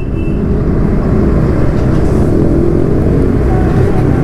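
Bajaj Pulsar NS200 motorcycle at high speed with exhaust bubbling, a loud steady engine drone with wind noise and no break, heard up close from the rider's position.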